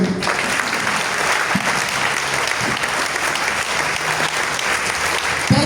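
A church congregation applauding and cheering God during a faith seminar, with sustained, dense clapping from a large crowd holding steady throughout and faint voices mixed in.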